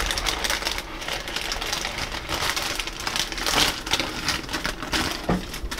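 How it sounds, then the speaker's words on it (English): Parchment paper is peeled away from a slab of homemade jelly nougat, giving a steady run of soft crackling, crinkling and tearing close by with no talking. "Flip it over and just take the paper off."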